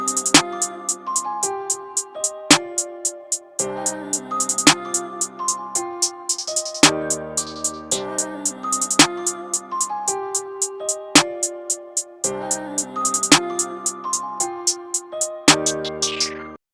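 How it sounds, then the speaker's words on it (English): Programmed 2-step drum beat built in FL Studio, with steady ticking hi-hats, an occasional hi-hat roll and a regular snare, looping over melodic synth notes with no voices. "We'll start out with the basic 2-step hi-hat right here and a basic snare"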